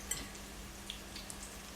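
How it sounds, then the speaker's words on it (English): Spinach and ricotta balls deep frying in vegetable oil, about a dozen at once, giving a steady low hiss of bubbling oil with a few faint crackles and pops, no voices. "You can put at least about a dozen in there, and that's frying up nicely."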